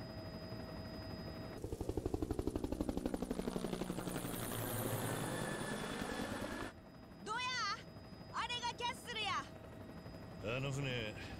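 A helicopter in the video game Like a Dragon Gaiden thumps with rapid rotor beats that rise loudly then cut off, followed by swooping electronic game sounds.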